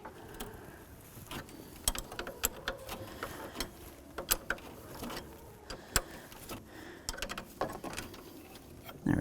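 A wrench loosens the transmission cooler line fitting on the radiator of a 1992-99 GMC K1500 truck, producing faint, irregular metallic clicks and taps against quiet shop background, close by, with no talking.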